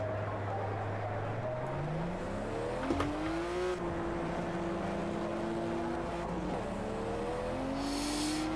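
Engine of a BMW 1M race car in the Project Cars video game, a steady loud drone climbing through the gears with repeated upshifts and a sustained high rev toward the end.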